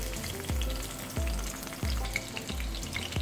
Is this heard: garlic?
yes